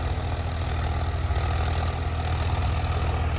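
Turbocharged tractor engine idling in a farm field, a steady low throbbing rumble with a continuous even drone, loud and close throughout with no voices.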